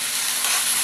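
A ginger-garlic paste with chili, turmeric and cumin powders sizzles in a pan for Bengali chicken kosha, a steady, fairly loud hiss with no pauses.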